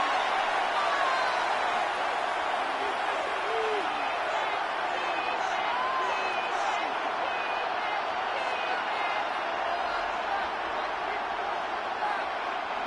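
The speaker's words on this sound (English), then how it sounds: "This crowd turning up the decibel level" A packed stadium crowd at a Packers vs Giants NFL game roars steadily, a constant broad wash of cheering noise with faint whistles and shouts throughout, with no break.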